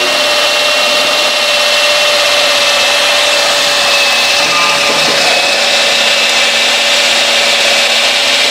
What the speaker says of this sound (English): And then basically I attach my cordless drill